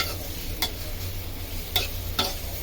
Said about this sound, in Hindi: और बस मैं प्याज फ्राई कर लूँगी